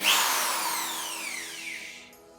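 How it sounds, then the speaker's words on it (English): A new 700-watt electric power drill spins up sharply and then winds down with a falling whine over about two seconds, close and alone. "And here is the new drill."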